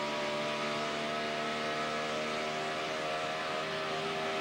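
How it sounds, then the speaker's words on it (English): A NASCAR race car engine at Pocono in 2011 holds a loud, continuous, steady drone up the straightaway in fourth gear, with a sustained tonal whine and no break in the sound. "He's going to bring in her 4th gear up the straightaway"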